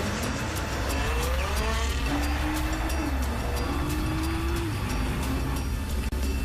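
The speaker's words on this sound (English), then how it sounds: "We drive at about 50 to 60 kilometers per hour on rough roads to really jolt the suspension and wheels" A Nissan GT-R driven at about 50 to 60 km/h over rough roads during test driving, with a constant loud rumble of engine and road noise and a wavering engine note that climbs and dips, plus repeated sharp jolts.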